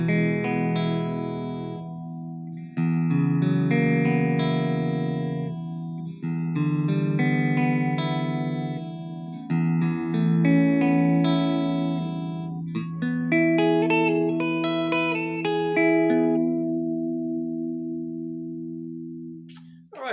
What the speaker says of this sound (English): there are different tones that you can get from this guitar by playing with these knobs